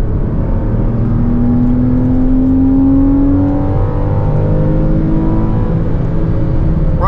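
A 2014 Porsche Cayman with PDK gearbox revs out on a race track, its engine climbing in a steady rising whine before shifting and continuing under constant loud road and wind noise.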